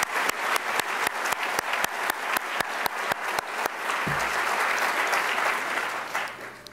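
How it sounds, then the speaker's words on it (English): An audience at an evening film screening applauds a choir after its performance, steady sustained clapping from many hands that fills the room and then tapers off. "Let's give them a nice round of applause."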